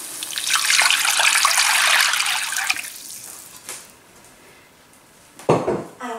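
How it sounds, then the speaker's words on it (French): Water pours into a pot of browned shallots with a bright splashing rush for a few seconds, then quiets, followed by a brief clank of cookware. "je rajoute de l'eau"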